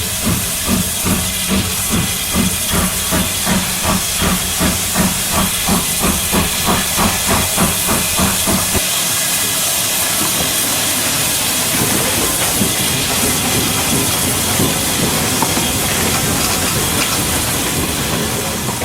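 Industrial steam locomotive at a paper mill railway, first chuffing in a loud, regular rhythm and then giving way to a strong, continuous hiss of escaping steam, close and unbroken.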